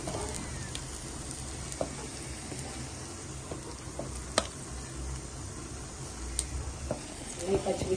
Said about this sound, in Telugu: ఫిష్ అయితే ఫ్రై అయిపోయింది